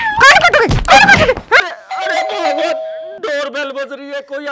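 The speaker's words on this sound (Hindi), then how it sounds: "डोरबेल बज रही है, कोई आया देख लो।" A voice gives way to a bright electronic doorbell chime that rings out, pauses, then sounds again, clear and close.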